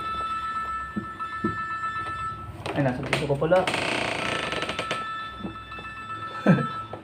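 A mobile phone ringtone rings with steady repeating tones through most of the stretch, with people talking over it and a few thumps and knocks nearby.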